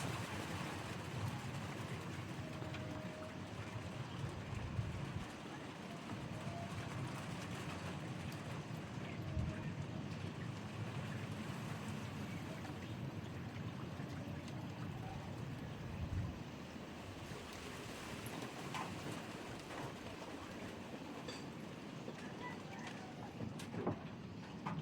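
Steady wash of water and wind around a small boat in the rain, with low rumbling and occasional knocks, continuous throughout without voices.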